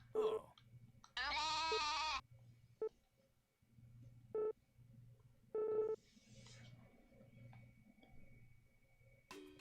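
Goats bleat in the Story of Seasons: A Wonderful Life farming game, with one long wavering bleat followed by a few short bleats over a soft, steady background hum.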